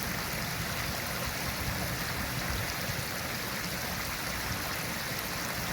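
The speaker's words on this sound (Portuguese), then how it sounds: "Paisagem inédita com som de rio de água corrente." Steady rushing of a running river, continuous broadband water flow at constant loudness with no breaks, no voices.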